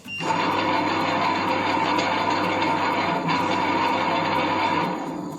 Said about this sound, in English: But the sound it makes is very loud also.